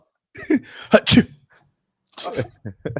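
A couple of sharp, breathy bursts like a sneeze, close up, followed after a pause by people talking.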